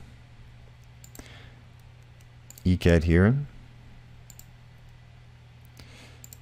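A few faint, sparse computer mouse clicks as someone steps through image markers in the Multiplex Analysis Viewer (MAV) for CODEX images; a voice briefly speaks in the middle.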